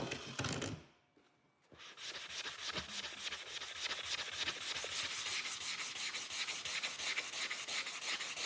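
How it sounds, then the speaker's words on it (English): A wooden knife scabbard is hand-sanded smooth with 400-grit paper, giving steady, rapid rasping strokes close up, with a brief pause near the start before the rubbing continues evenly. "I sand the wood scabbard smooth to 400 grit"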